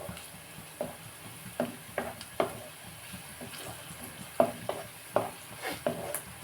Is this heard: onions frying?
yes